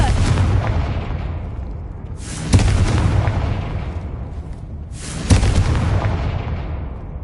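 Three booming Confringo spell explosions go off in Hogwarts Legacy, each a loud burst with a long rumbling decay, spaced a couple of seconds apart.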